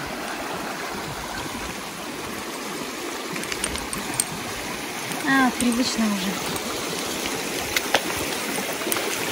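Steady rushing water of a river in the Polar Urals fills the background, with a brief spoken remark partway through.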